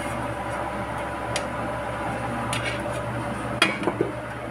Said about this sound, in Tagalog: Takpan natin para mabilis maluto.